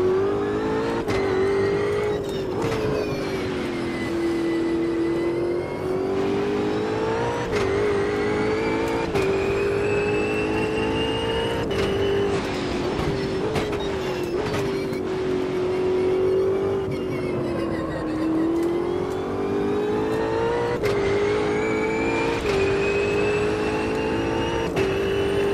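Race cars in the Automobilista 2 racing video game, engines droning steadily with rising and falling revs as tyres squeal under cornering load, continuous and loud throughout with no talk.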